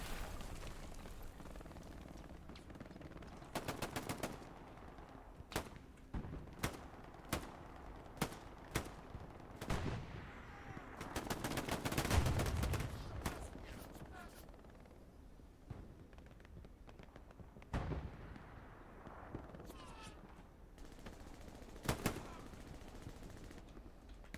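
Machine gun bursts in a multiplayer shooter match, short sharp volleys and single shots cracking at irregular intervals, some near and loud, others distant, with a heavier explosive rumble mid-way and faint talk.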